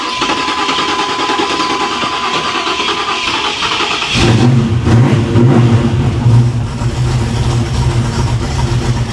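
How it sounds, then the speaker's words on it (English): A 1987 Monte Carlo SS car engine cranks and catches, then settles into a loud, steady running rumble with some revving, close by and with no voices. "Let's fire it up, see what it sounds like"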